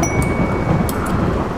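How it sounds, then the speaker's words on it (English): A heavy thunderstorm in the video game RimWorld, a dense steady roar of rain with rumbling thunder throughout, loud and continuous with no speech. "We are having a serious storm here."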